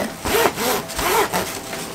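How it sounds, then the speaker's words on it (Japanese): A zipper opens on a thin-fabric travel bag in three or four smooth, close rasping strokes, loud and rhythmic, with no talk. "ジップチャックで開きます"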